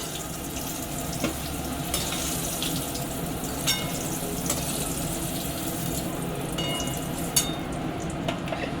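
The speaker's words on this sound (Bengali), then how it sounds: "এবারে একটু লাল লাল করে ভাজা হবে, ভাজতে থাকো" Pointed gourd (potol) sizzling and crackling in hot oil, a steady frying hiss with occasional sharp pops, close by and with no talking.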